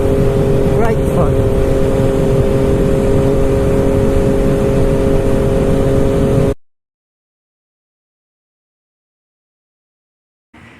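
MV Agusta F3 motorcycle fitted with a road-legal SC Projects exhaust, riding along with a steady droning engine note and wind rush for about six seconds before the sound cuts to silence.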